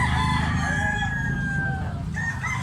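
A young stag rooster of the black lake gamefowl line crows one long, drawn-out call at a morning fowl gathering in Carbon, Cebu, with other birds clucking and crowing in the background.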